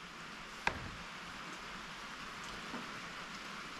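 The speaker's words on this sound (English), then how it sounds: "It's sprinkling rain, but we're going to do it anyway." Light sprinkling rain falls outdoors as a soft, steady hiss throughout, with one sharp nearby tap or click early on and a faint bump later.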